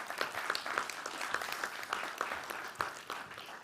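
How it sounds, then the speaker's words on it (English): Audience applause for a speaker at a property summit in Derby, a steady round of clapping from a modest crowd with distinct sharp claps sustained throughout. "Let's give him a round of applause."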